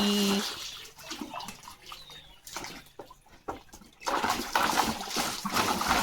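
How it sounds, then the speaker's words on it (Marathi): A dog plays in water nearby, with splashing and trickling in uneven bursts, louder at the start and end, while someone talks over it. "लिव आता खेळतोय पाणी"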